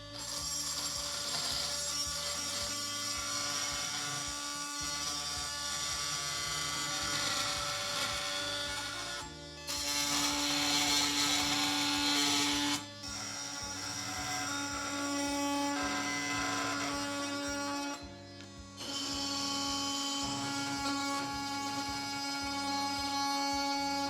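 An oscillating multi-tool blade cuts through drywall screws, giving a loud, steady buzzing grind that runs almost continuously, with a few brief pauses between cuts.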